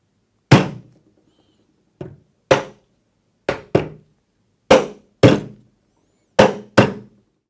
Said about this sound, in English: taking a hammer, just tap this lug until it goes flush with the top of the leg boss